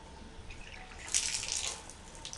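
Water runs from a newly installed faucet on pipes in a condo, a steady splashing hiss that swells for a moment near the middle before settling back, close by and with no talk over it.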